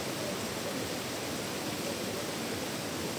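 A river current rushes after rain at a riverside, a dense, continuous roar of flowing water, steady and fairly close with no break.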